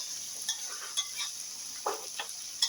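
Chicken stir-frying in a pan, a constant hiss of sizzling oil broken by a few light utensil scrapes and clicks, close and fairly quiet, without speech.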